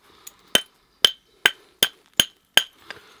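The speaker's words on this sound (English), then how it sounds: "metal is not really the best thing in the world to be hitting flint with" A metal hammer strikes a piece of flint during flint knapping, making six sharp, loud clinking knocks at a steady, slightly uneven rhythm, close by, with a fainter tap just before them and no talking.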